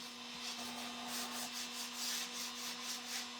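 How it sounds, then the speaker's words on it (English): Sandpaper rubs over a small Dollar Tree mini lantern coated in copper, a close, steady scratchy hiss with a gentle back-and-forth stroking rhythm and a faint constant hum beneath. "We're going to give this a little bit of a sand, and that's going to reveal more of that copper that we put down."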